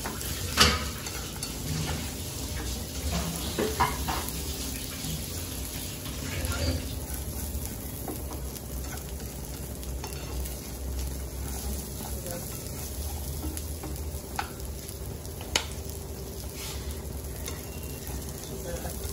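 Frying and stirring in a pan until golden brown, a continuous sizzle broken by scraping and clinks of a utensil against the pan, with occasional sharper taps, quiet and close throughout.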